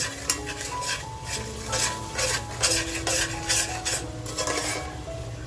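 Masala sautéed in a pan with a splash of water for a homemade prawn biryani, with quick rhythmic stirring and scraping strokes over a steady close sizzle.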